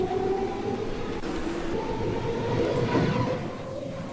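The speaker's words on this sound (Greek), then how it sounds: "Δεν μπορούμε να πάμε γρήγορα με αυτό το μετρό." Athens metro train in Roblox running along the track, a steady rumbling rail drone with a sustained whining motor tone, continuous and close throughout.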